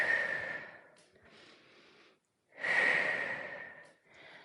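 Heavy, forceful breaths during a weight workout: two long loud exhalations with quieter breaths between, close to the microphone, no talking.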